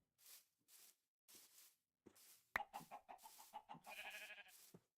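Minecraft chickens cluck in a game world, a series of short, fairly quiet clucks and squawks in quick succession, alone with no talking.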